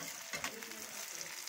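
Chilies and onion fry in a pan for a dal pithi dish, giving a soft, steady sizzle with light stirring scrapes, fairly quiet and close.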